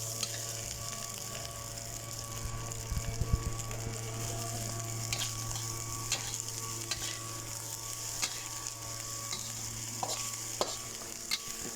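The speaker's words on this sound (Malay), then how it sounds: "Sekarang nasi goreng dah mula menjadi goreng." Nasi goreng (fried rice) sizzles steadily in a pan with scattered scraping and stirring clicks, a constant close frying hiss with a low hum beneath and no talking.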